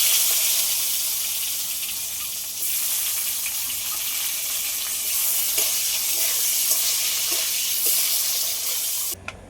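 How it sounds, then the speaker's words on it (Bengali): Eggplant coated in turmeric fries in a pan for a Bengali lote fish curry, a steady close broadband sizzle and spatter with faint clicks of movement throughout, no voices. "বেগুনটা একটু ভেজে নেব।"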